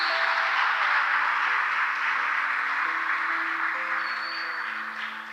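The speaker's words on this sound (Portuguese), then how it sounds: "dê um forte aplauso ao Senhor" A congregation at a church congress applauds strongly, a steady wash of many hands clapping that holds for several seconds and slowly eases, with a sustained keyboard chord underneath.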